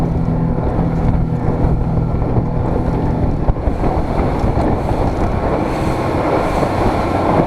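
A Suzuki 60 hp outboard drives an inflatable boat with a fiberglass floor over choppy water, giving a loud, steady engine roar that is blended with the rush of water and heavy wind buffeting the microphone throughout.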